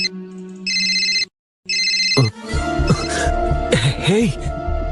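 A phone ringtone sounds for an incoming call, a bright electronic melody heard in two bursts separated by a brief silence, then a voice clears its throat and people speak.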